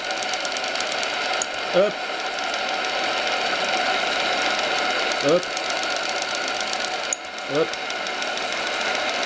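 The small steam engine of an RC tugboat named Paterson runs with a steady, fast mechanical ticking and chuffing, close and even, while a man briefly calls out a few times.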